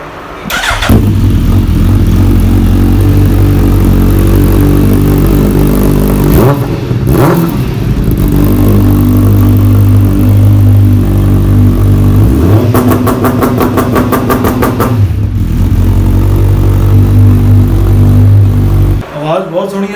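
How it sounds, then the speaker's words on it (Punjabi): A Suzuki Hayabusa motorcycle fires up and idles loudly up close, its deep rumble broken by sharp revs and a rapid stuttering burst before settling back, with people talking over the engine. "ਆ ਜਾਓ ਹੁਣ ਤੁਹਾਨੂੰ ਸੁਣਾਉਣੀ ਆ ਜੀ ਹਾਇਬੂਸਾ ਦੀ ਆਵਾਜ਼ ਜੀ। ਕਰੋ ਬਾਈ ਸਟਾਰਟ।"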